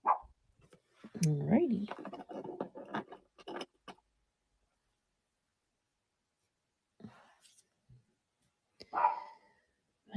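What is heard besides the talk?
dog barking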